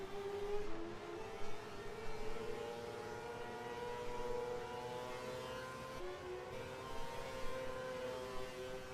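A race car laps Monza in a racing video game, its engine note climbing and falling through repeated bursts of acceleration and hard braking, a continuous whining drone with shifting pitch throughout.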